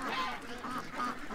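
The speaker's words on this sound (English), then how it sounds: "These are big geese, you know that?" Big geese honk repeatedly in a short run of loud, nasal calls close by, the blasts rising and falling over a steady backdrop.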